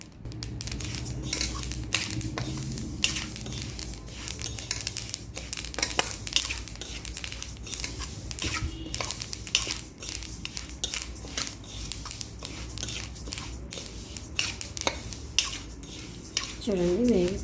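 Sesame seeds being roasted and stirred in a pan, heard as a continuous scraping rattle of a spoon against metal with dense clicks and small crackles, close and busy throughout.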